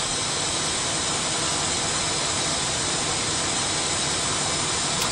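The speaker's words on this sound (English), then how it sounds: "And we are trying to relight the engines." Steady, loud roar of Airbus A320 jet engines during an attempted relight after a ditching-scenario engine failure, a dense unbroken whoosh with no voices.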